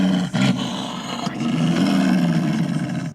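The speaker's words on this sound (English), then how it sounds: "I awoke to the sound of growling" A deep, continuous animal growl and roar fills the whole stretch, loud and close, heard at night from inside a parked car while something lurks underneath.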